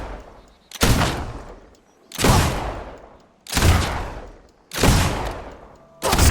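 Four heavy, booming gunshots in Fable II, evenly spaced about one and a half seconds apart, each with a sharp loud attack that fades slowly into a long echoing tail.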